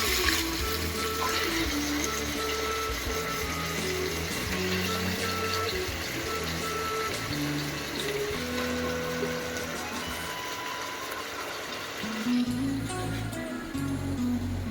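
Washed chicken pieces tipped into a hot pan of Chettinad gravy base with curry leaves, giving a continuous soft sizzle and wet frying hiss with light clatter, fairly quiet and without speech.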